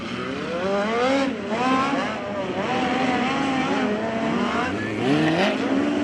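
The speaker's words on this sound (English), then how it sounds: "he's actually just firing that car off, trying to get some heat into it" A midget race car engine fires up and revs hard at a dirt oval, its rising and falling pitch sweeping up and down repeatedly, loud and close with steady track noise underneath.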